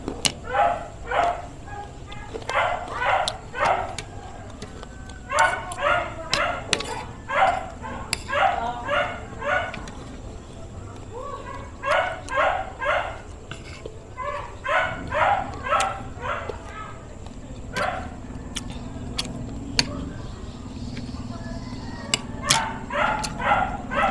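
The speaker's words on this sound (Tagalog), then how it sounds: "Kanino kaya yung maingay na aso?" A noisy dog barks repeatedly nearby in quick clusters of sharp yips and barks with short pauses, continuing throughout over a low outdoor background.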